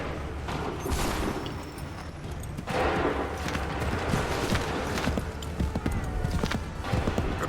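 Musket volleys ring out on an Assassin's Creed III battlefield as scattered bursts of crackling gunfire, some nearer and some distant, over a continuous din of hooves and movement.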